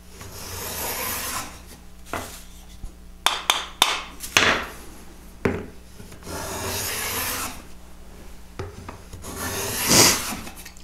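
Wooden side bead moulding plane cutting shavings from wood, a series of rasping strokes with a few sharp knocks, fairly close and clear.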